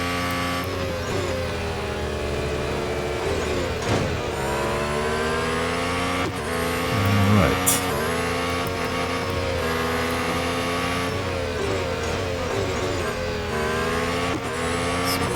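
A Haas Formula 1 race car in the Real Racing 3 video game, driving flat out at Japan's Suzuka circuit, its high engine whine held steadily with brief gear-shift dips and a short tire squeal midway.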